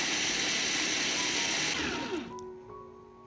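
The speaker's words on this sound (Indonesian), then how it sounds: "Kemudian ini kita chopper hingga halus." An electric food chopper grinding spices whirs loudly at a steady high speed, then winds down as the motor stops, leaving a fading hum.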